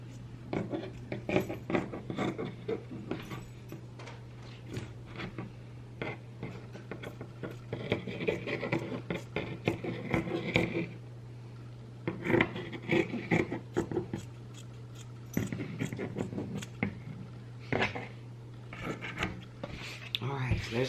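Fabric being trimmed for a holiday pillow cover, repeated crisp snips and rustling scissor cuts in bursts with short pauses, over a constant low electrical hum.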